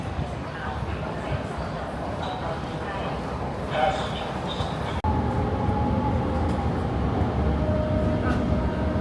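Steady loud rumble and rail roar of a Shenzhen subway train in motion, with a brief clatter and a sharp jolt midway as the ride continues.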